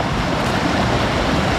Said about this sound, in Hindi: यहाँ देखिए कितने अच्छे से पानी की झरना बना है पानी का, और काफ़ी इतने मस्त तरीके से पानी निकल रहा है यहाँ से